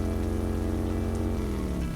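Steady rain patters on a surface beneath a constant low engine drone, the sound unbroken and close throughout.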